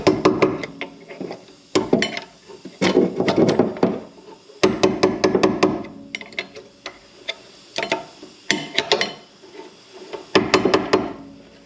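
On the rear brakes of a 2006 Hyundai Elantra, a flathead screwdriver levers spring hardware into place, making bursts of metallic clicks, taps and scrapes separated by short pauses, close by.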